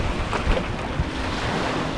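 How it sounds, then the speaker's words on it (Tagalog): Strong wind buffets the microphone while sea waves wash steadily at Pago Bay, Guam, a continuous loud roar with no talking. "Medyo maganda yung dagat pero malakas ang hangin."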